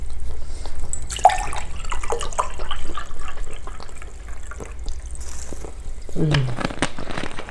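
Close water trickles and bubbles continuously, with soft splashes and burbling drips over several seconds. Faint background noise runs underneath and no one speaks.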